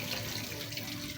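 Water pours steadily into a koi pond being cleaned and reset outdoors, a continuous faint rushing splash with no break and no voices.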